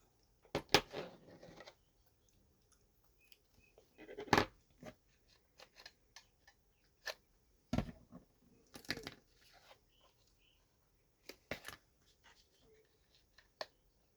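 Scissors snip through paper craft material for a vintage Easter rosette, giving sharp, separate cuts spaced irregularly over a quiet background.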